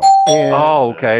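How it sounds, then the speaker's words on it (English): A doorbell chimes loudly with a clear two-tone ding-dong, then a voice briefly speaks over its fading ring. "That's a doorbell."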